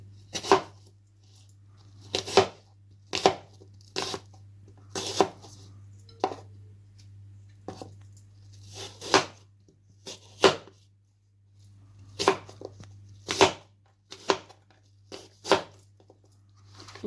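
An apple is chopped for a fruit salad, with a steady series of sharp knife strikes on a cutting board coming in uneven clusters, close and clear, with no talking.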